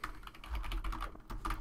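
Rapid typing on a computer keyboard while writing C++ code: a quick irregular run of close key clicks with a short pause partway through.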